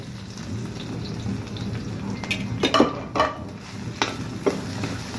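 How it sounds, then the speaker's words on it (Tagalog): Ginger sautés in a pan, a soft steady frying sizzle under light stirring, with a few sharp scrapes and clinks from a utensil. "Gisahin lang natin."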